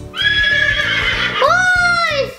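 A horse whinnies from an iPad children's education app, a loud, close neigh that rises and wavers, breaks off briefly, then resumes in a second falling whinny.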